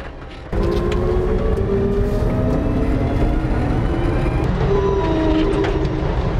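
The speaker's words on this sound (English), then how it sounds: "Definitely still sounds like an old truck, drives like an old truck" A classic truck converted to electric drive rolls along: steady, loud road and cabin rumble begins abruptly, with thin gliding whine tones from the motor rising and falling as it drives.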